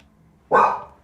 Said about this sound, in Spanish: están ladrando todos los perros de la cuadra